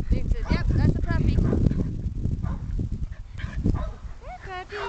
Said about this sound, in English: yep, that's a puppy